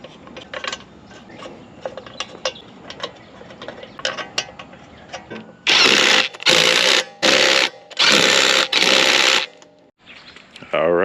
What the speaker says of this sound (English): I'm about to put the wheels back on